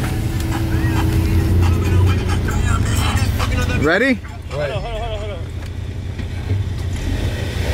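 A car engine idles loudly before an informal race, its rumble dropping partway through while people talk and count down over it.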